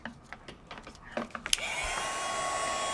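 A heat tool melts gold embossing powder on stamped card corners: a few light taps and clicks, then the tool switches on into a steady, close whooshing blower whine that holds to the end.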